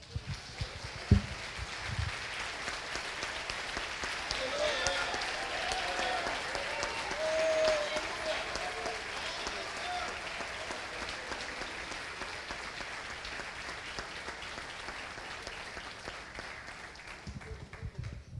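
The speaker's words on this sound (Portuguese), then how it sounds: "Vamos louvar o Senhor com a salva de palmas?" Sustained applause from a church conference congregation, a dense steady patter of many hands clapping across the hall, fairly even in loudness and tapering slightly near the end, with faint voices beneath.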